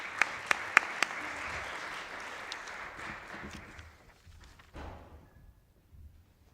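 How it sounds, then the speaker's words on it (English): Audience applause at a symposium as panelists are brought up, a dense burst of clapping with a few sharp louder claps early on, fading out over several seconds into near quiet. "please give them a round of applause as we bring them up"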